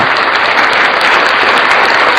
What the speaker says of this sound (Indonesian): kita kasih tepuk tangan dulu